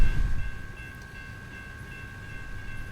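Freight train rolls past a stopped truck at a crossing in American Truck Simulator, a steady rumbling drone with a sustained horn-like tone held throughout, moderately loud and close, with no talking.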